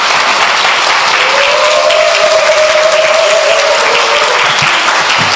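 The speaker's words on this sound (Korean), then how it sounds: "뜨거운 박수로 목사님." Loud, sustained applause from a church congregation welcoming the pastor, a dense wash of clapping that fills the room continuously, with a faint voice briefly carrying under it.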